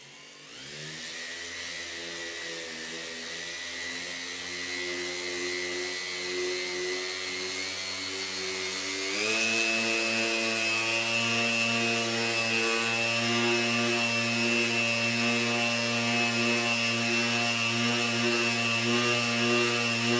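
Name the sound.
machine polishing car paint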